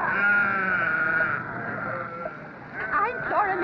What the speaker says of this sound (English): Now you get the sheep out of here before I come.